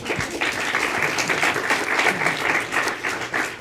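Audience applause during a talk on copyright principles, a dense, steady wash of many hands clapping, fairly close and loud, with no speech over it.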